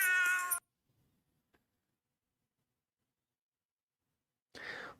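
A calico cat meows in two short bursts, a loud, harmonic call at the start and a brief rougher one at the end, separated by near silence.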